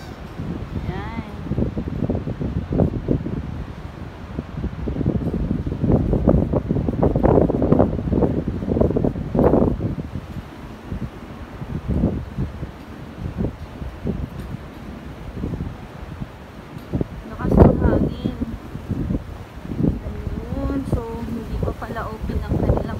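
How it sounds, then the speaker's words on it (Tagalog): Strong wind at a seaside hotel, heavy gusts buffeting the microphone in loud irregular bursts, with a person talking briefly between gusts. "Lakas ng hangin."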